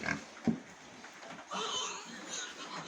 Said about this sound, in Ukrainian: Отакі у нас поросятка.